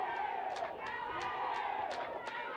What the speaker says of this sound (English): the spectators are up in arms here, especially from the Angolan side, as they are cheering just right in front of us here